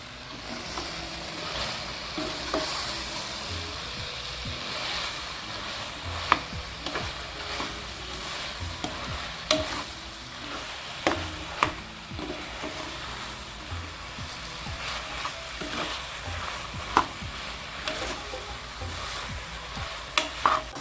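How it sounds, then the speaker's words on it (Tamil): Mushrooms sauté in a pan for mushroom biryani, a continuous sizzle broken by irregular scrapes and clacks of a spoon stirring them, close and steady throughout with no talking. "நீ காளான் போட்டுக்கலாம். கொஞ்சம் காளான் வதங்கினதுக்கப்புறம் அரிசி போட்டுக்கலாம்."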